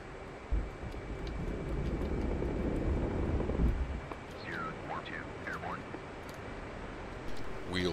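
Jet aircraft in the DCS flight simulator game rolling for takeoff, a steady broadband engine roar throughout with a brief thump early on and some chirpy sounds midway, no talking.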